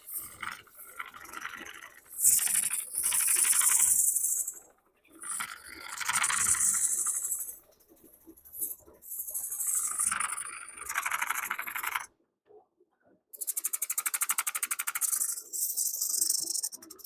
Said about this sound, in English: I prefer to sand holding the sandpaper